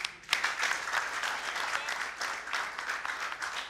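An audience at a football event in a stadium changing-room setting claps for a few seconds. A sharp first clap starts the applause, which then runs as a dense, moderately loud patter.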